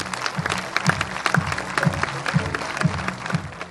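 An audience at a business event held by the CGPME Gard applauds Daniel Herrero with a steady round of clapping and a regular rhythmic pulse, close and moderately loud.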